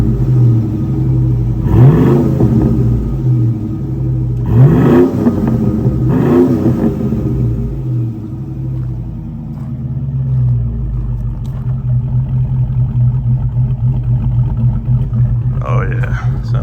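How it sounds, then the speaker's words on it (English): A 2003 Chevy Tahoe's 5.3 LS V8 with shorty headers and a BTR cam rumbles loudly at idle. It is revved sharply three times early on, then settles back to a deep, steady idle, with a brief voice near the end. "Let's rev it up a little bit."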